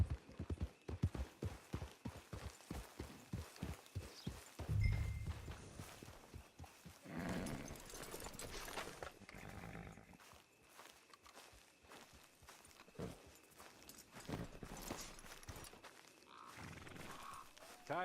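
Horse hooves clip-clopping in a video game, a quick rhythmic run of close hoofbeats that slows and fades, followed by scattered thuds and low ambient noise, with no talk.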